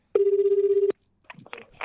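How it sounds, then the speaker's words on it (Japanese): An outgoing phone call rings once with a single steady electronic ringback tone, heard close and clear. After it stops, a voice briefly starts speaking. "中地タカ子に電話をしております"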